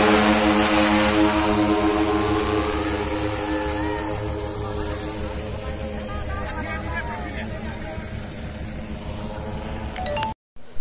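A DJI drone flies high overhead, its propellers giving a steady, multi-toned whine that stays loud and continuous for about ten seconds before cutting off abruptly near the end.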